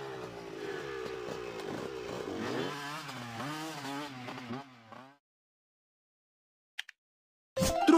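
A motocross motorcycle revs for about five seconds, the engine pitch rising and falling in waves before cutting off into silence, with a brief click and a short noisy burst after.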